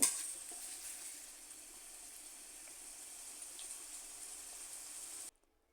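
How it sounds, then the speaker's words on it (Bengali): Onions sizzle and fry steadily in a pan for an egg curry, a continuous soft crackle heard alone at moderate distance that cuts off abruptly near the end. "এদিকে আমি পেঁয়াজগুলো এখনও বেজে নিচ্ছি"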